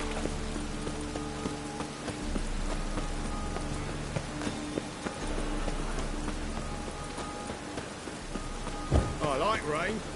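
Rain in The Witcher video game, a steady patter of falling rain under a low hum of game ambience, with occasional hoof clops and faint background voices.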